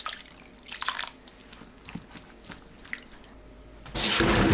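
Water is poured over potatoes in a pot, starting with scattered drips and small splashes and then becoming a loud, steady close rush of running water near the end, with no speech.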